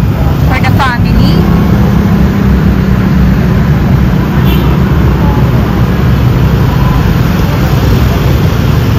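Dense motorbike traffic on a busy Ho Chi Minh City street makes a continuous, loud roar of engines and road noise, with a brief horn-like whine early on and no break in the din.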